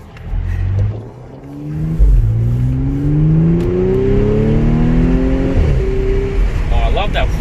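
A supercharged V6 Audi S5 accelerates hard, engine pitch climbing steadily through the gears with quick drops at each shift, a loud close whining roar from inside the car.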